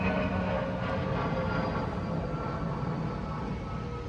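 An airplane passes overhead in New York, a steady broad roar that fades slightly toward the end.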